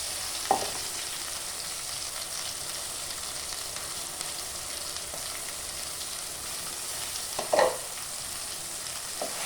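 Masala with chili, turmeric and salt for an egg curry sizzles steadily in a hot pan, with a couple of clear clinks from the stirring spoon near the start and again toward the end.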